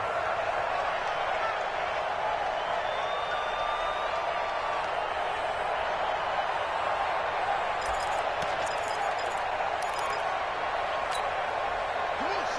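Broad, steady roar of a stadium crowd in an American football video game during a playoff game with the Bills, a continuous wash of cheering noise that holds level throughout with no speech over it.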